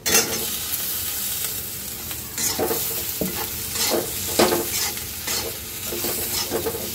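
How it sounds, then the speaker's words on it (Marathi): Potatoes and okra frying in spiced oil, a continuous sizzle broken by repeated scraping stirs and clinks of a spatula in the pan, close and moderately loud, no voices. "बटाटा आणि भेंडी टाकून घ्यायची आता."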